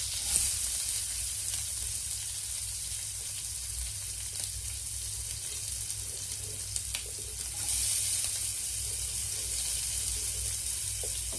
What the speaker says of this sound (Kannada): ಮೆಣಸಿನ್ಕಾಯಿ, ಹಂಗೆ ಆನಿಯನ್ ಹಾಕ್ತಾ ಇದ್ದೀನಿ